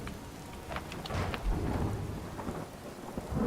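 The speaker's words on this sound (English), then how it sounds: "I really don't mind the rain." Steady rain patters on surfaces while low thunder rumbles through in the video game Skyrim, a continuous stormy wash at moderate volume.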